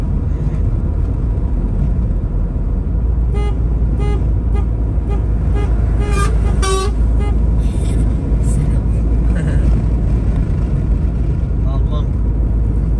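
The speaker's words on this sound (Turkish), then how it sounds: "Korna çalayım mı?" A vehicle horn toots a few times amid steady engine and road rumble, with people talking nearby, at Igoumenitsa port, Greece.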